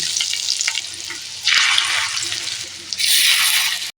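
Fish roe fries in hot oil in a wok, giving a loud, hissing sizzle. The sizzle comes in two strong surges as the roe goes in, with quieter crackling before and between them.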